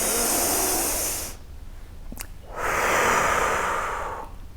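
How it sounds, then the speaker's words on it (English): Two slow breaths taken in through the nose and let out through the mouth, each a soft broad airy whoosh lasting over a second, separated by a quiet pause, close and alone without speech. "we're going to breathe in through our nose, out through our mouth"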